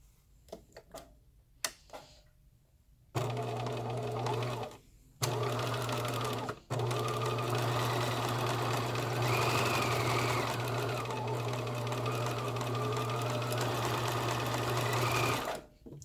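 A sewing machine stitches a seam flap in a long, steady whirring run of about twelve seconds, broken by a brief pause, after a few quiet clicks and taps at the start.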